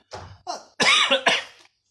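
A short run of coughs, four harsh bursts close up, the last two louder and raspier, like a throat being forced clear.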